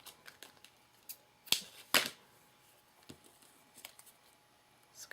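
Scissors cutting black material, with faint crisp snips and a couple of sharper louder cuts near the middle, quiet and close in an otherwise still room.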